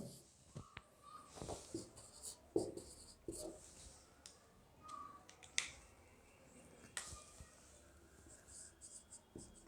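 Pen writing notes on paper, with scattered short scratches and taps at an irregular pace, faint and close, along with soft breaths.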